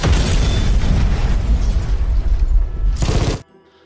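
Loud explosions and bursts of action-movie gunfire from the 2023 Indonesian film 13 Bom di Jakarta, a dense roaring barrage that keeps going for about three seconds, then a final blast before it cuts off abruptly into near silence.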